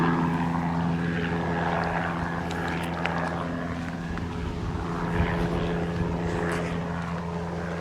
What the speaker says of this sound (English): They do lots of helicopter rides here as well. That's one going off over the canyon.